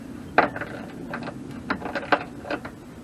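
A ratchet and socket tightening a bolt while fitting an adjustable RV hose carrier, giving several separate bursts of metallic clicking spread across a few seconds, fairly close with a low background hum.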